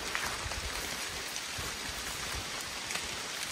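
Steady rain patters on leaves and forest ground in the woods on a Pennsylvania hunting day, a dense continuous hiss with scattered nearby drops and no voices.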